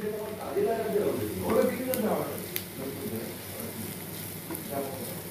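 Fish bhorta with capsicum being stir-fried in a pan gives a soft sizzle and occasional scraping stirs, with a voice talking over it at moderate volume.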